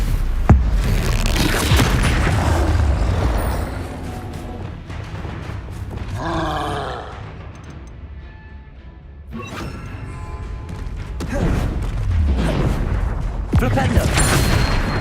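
Spell-combat blasts in the Hogwarts Legacy video game, including Stupefy: repeated loud booming impacts and crashes with bursts of magical whooshing, dense and continuous with a brief quieter lull midway, a voice shouting spell names over them.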